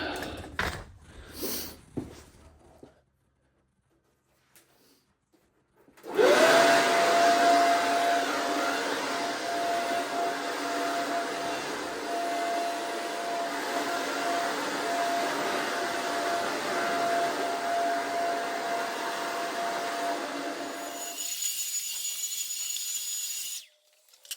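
In a messy workshop, an air blower clearing out sawdust starts after some brief handling noises and a pause, then gives a loud, steady rushing hiss for about fifteen seconds before cutting off.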